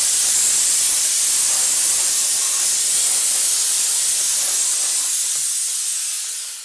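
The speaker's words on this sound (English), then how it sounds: "Well, it's been steam cleaned." A Shark Lift-Away Professional Pocket steam mop (S3901) pours out a loud, steady hiss of steam continuously, close up, then tapers off at the very end.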